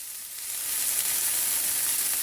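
Chopped mushrooms, onions and peppers sizzle in a pan, a bright, steady hiss that swells slightly after a moment and holds evenly, close by, with no voices.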